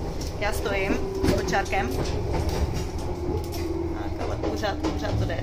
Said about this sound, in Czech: Je to festivalový vlak.